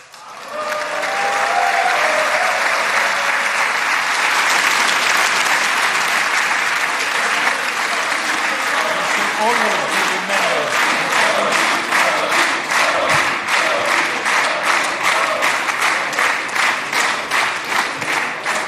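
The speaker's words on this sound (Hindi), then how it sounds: "वहाँ मोदी के नारे लगने लगे और बहुत देर तक तालियां बजती रहीं" Prolonged applause from a large audience in the Israeli parliament for Modi, loud and steady throughout, turning into rhythmic clapping toward the end.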